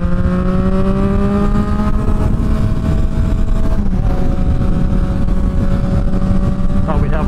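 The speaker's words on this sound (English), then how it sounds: "This has got the way louder exhaust." A Ducati Streetfighter V2 or Triumph Street Triple RS with a loud exhaust roars on a track, its engine note rising steadily and dipping briefly before climbing again, loud and close under heavy wind noise.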